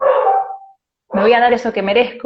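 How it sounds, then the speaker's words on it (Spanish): A dog barking at the neighbours in the background of a home setting, one bark and then a yelping burst mixed with someone speaking Spanish close to the microphone. "mientras mi perro le ladra a los vecinos"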